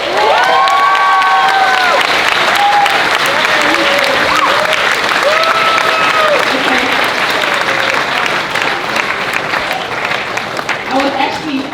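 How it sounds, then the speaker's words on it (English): Loud, sustained clapping from a large audience fills the space, with scattered cheers and voices calling out over it. "yes, I love the applause"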